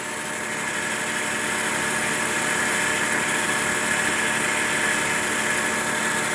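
A metal lathe turns steadily while a boring bar cuts at a slow feed rate, producing a continuous even mechanical hum with a faint high whine throughout.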